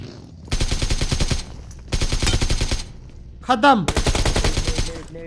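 Heavy automatic gunfire rattles in three long bursts during a video game fight scene, close and loud, with a short metallic chirp between bursts and a brief spoken word over the shooting.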